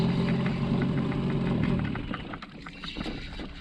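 A boat's outboard motor runs close by on a wild river at night, giving a rough, knocking engine chug that softens slightly toward the end, with faint background noise.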